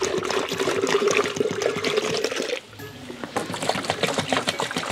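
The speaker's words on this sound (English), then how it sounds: "I'm going to open some water in here." Water pours steadily into a container for mixing chick vaccine, a close rushing splash that briefly drops off before resuming.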